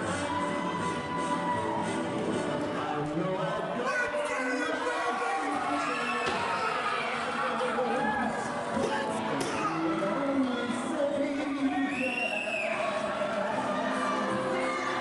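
An arena crowd at a wrestling show roars and cheers loudly and continuously with scattered whoops and shouts, while entrance music and a commentator's voice sit partly beneath the noise.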